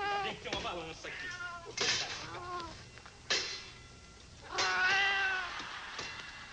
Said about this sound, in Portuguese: Onde é que tá esse gato?